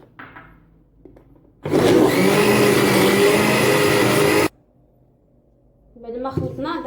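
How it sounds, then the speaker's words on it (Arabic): A blender whirring at full speed as it mixes lemon juice with milk, a loud, steady roar for about three seconds between quieter moments, with a voice speaking briefly afterward. "نعاود نخلطو"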